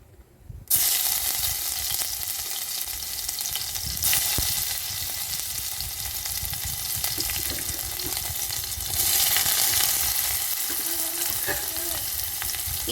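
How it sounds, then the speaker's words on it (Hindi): Masala fries in hot oil in a home kitchen, giving off a loud, steady sizzle that begins abruptly and carries on unbroken, with small stirring scrapes. "यहाँ पे मैंने तेल गरम करा है"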